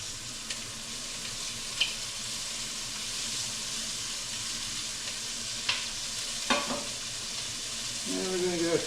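Chopped onions hit a pan of browned beef for stew, setting off a loud, steady close sizzle, with a few clinks of utensils and stirring scrapes near the end.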